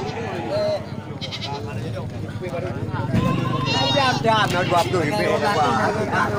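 Mother goats and their kids bleat repeatedly at a busy livestock market, several calls overlapping and close by, with crowd chatter and voices underneath throughout.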